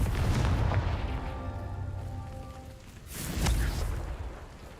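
Confringo spell explosion from Hogwarts Legacy: an initial rumbling blast fades, then a second loud boom erupts around three seconds in, swelling and decaying over a low game background.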